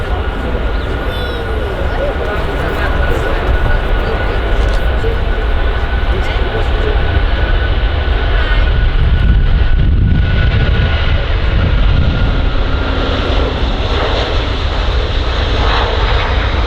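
An Airbus A330 airliner at Manchester Airport, runway 05L, produces a loud, continuous jet engine roar that stays strong and close throughout, with a broad rushing whine and some wind buffeting.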